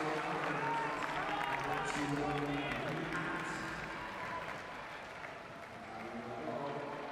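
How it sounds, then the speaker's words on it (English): A passionate home crowd at the London Velodrome during 2012 Paralympic track cycling keeps up a continuous distant roar of cheering and applause that swells and eases slightly without a break. "there's a passionate, noisy home crowd at the Velodrome in London"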